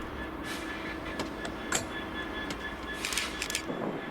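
Class 66 diesel locomotive 66738 moving tank wagons at the Irvine papermill siding, a steady rumbling rail noise with faint wheel squeals and clanks, continuous and moderately distant.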